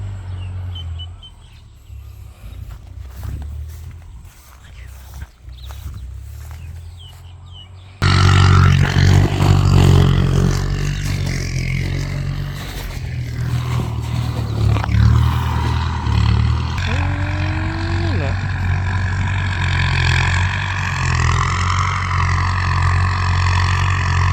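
Kubota M85 tractor plowing a wet, muddy paddy field, its engine a steady loud rumble that starts quieter with scattered knocks, then surges into a continuous heavy drone with a rising whine near the end.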